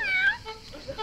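A cat at a large rented holiday villa in Greece gives a clear, close meow that rises and falls, followed by a couple of softer, shorter mews.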